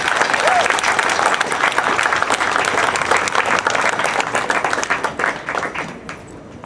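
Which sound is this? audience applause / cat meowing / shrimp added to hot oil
audience applause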